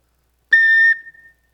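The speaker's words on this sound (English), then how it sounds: "And what they all consist of is some sort of a whistle." A fife gives one clear, pure whistled note, held briefly and then cut off with a short fading tail, loud and close in otherwise silent surroundings.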